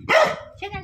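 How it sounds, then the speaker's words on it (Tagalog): A dog gives two quick, fairly close barks in a Filipino home setting, with a brief voice in the background between them. "Uy, may aso."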